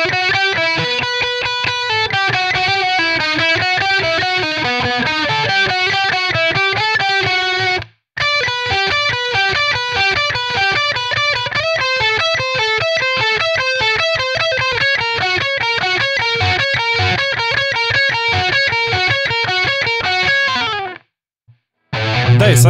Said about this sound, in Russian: мы играем то же самое, только на тональность ниже, на один тон